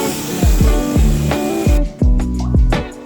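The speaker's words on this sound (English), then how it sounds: "whenever you are working with the pressure washer" A pressure washer sprays water across a concrete patio, its steady broadband hiss loud and close, broken by several short bursts and cutoffs with low thumping pulses as the trigger is worked, with no talking.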